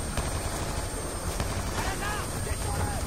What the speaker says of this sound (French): le drone décolle